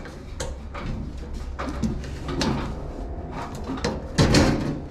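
A key turns in the lock of a metal tool cabinet drawer in a storage unit, giving a few close clicks and rattles before the drawer slides open with a louder clunk near the end.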